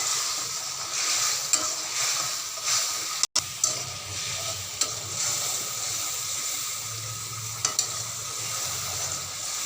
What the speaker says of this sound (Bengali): মশলাটা নাড়াচাড়া দিয়ে